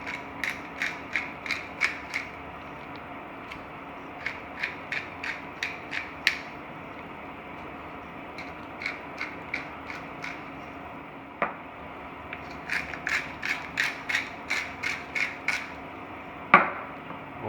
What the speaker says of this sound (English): And we've got some sea salt and cracked pepper.